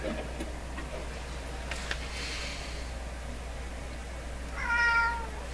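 A single short cat meow rises near the end, fairly close, over a quiet room with faint ticking and soft rustling and no talking.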